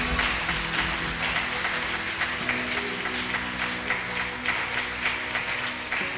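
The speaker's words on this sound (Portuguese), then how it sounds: "Aplauda bem forte o Senhor Jesus." Church congregation applauding loudly for Jesus during a service, a sustained wash of clapping from a crowd that holds steady throughout.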